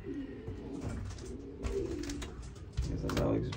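Racing pigeons coo softly in a loft among young birds, several low, rolling coos overlapping one another at close range with faint rustling in the background.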